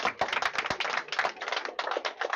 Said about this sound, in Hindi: ताली मार के स्वागत करेंगे।